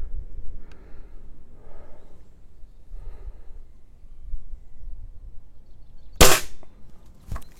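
A Swiss Arms TG1 airsoft sniper rifle fires one sharp, loud crack through a chronograph after several seconds of quiet rustling, followed by a fainter click.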